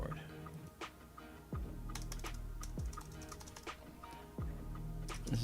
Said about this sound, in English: Yeah, stuck keyboard.